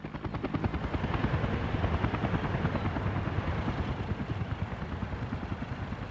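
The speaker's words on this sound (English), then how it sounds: "A helicopter." Helicopter in the game Workers & Resources: Soviet Republic, with steady, rapid rotor chopping and engine drone held at an even, moderate level throughout.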